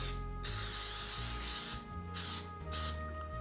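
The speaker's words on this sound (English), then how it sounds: "I like to spray it with oil." Cooking oil sprayed from a can into a cake mold in three or four short hissing bursts, close and clear, with faint mechanical clicks between them.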